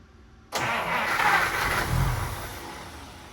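A 1950 Pontiac engine cranks and catches abruptly after a brief quiet moment, then runs roughly with a loud, steady churning that slowly eases, heard close and without talk.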